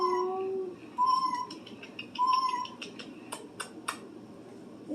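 A battery-powered toy cat meows a few times in high, electronic-sounding calls, with soft handling noise and faint clicks between them.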